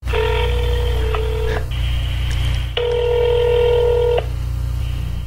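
A telephone number is dialed, and two long touch-tone beeps sound clearly over a low, steady hum.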